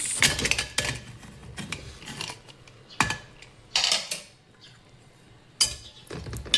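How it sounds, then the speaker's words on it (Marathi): A pressure cooker lid comes off in a home kitchen with a string of close metallic clinks, clanks and scrapes. The sharp taps come in uneven bursts with short pauses between. "चला तर कुकर खोलूया आपण।"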